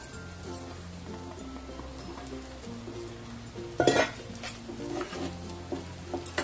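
Sago pearls tipped into a pan with potatoes for sabudana khichdi and stirred, giving soft scraping and a brief louder clatter midway over a low steady hum, close and fairly quiet.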